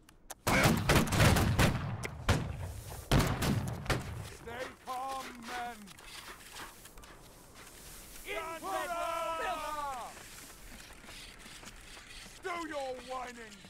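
Musket volleys in the online battle game Holdfast: Nations at War. Several loud, ragged bursts of gunfire crack out close by in the first few seconds, followed by shouted voices and orders between the shots.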